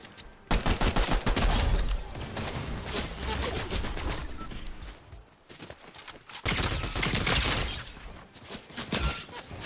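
Rapid gunfire from Fortnite, pistol shots in dense bursts that fill nearly the whole stretch, loud and close, with a short lull midway before the volley resumes.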